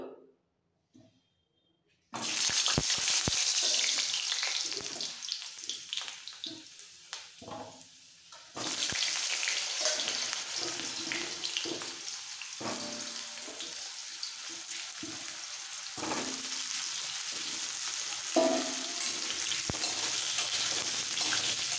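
Cut, washed potatoes hit hot soybean oil for a dhaba-style alur dom and fry with a loud, steady sizzle that stays continuous, with brief stirring noises and a short gap in the middle.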